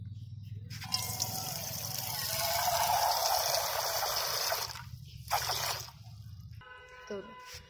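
Water pouring steadily into a container for a cheap school science experiment, a bright continuous stream lasting several seconds over a low hum, then a short second pour and faint clinking.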